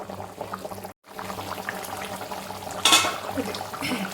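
Fish curry simmering in a pot, a close, steady bubbling and hiss with a brief dropout and a louder burst of liquid noise partway through.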